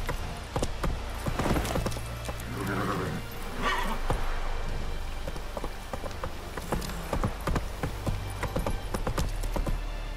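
Roach, a horse in The Witcher 3, gallops with steady, close hoofbeats in a quick rhythmic clip-clop that runs the whole time, with a short snort partway through.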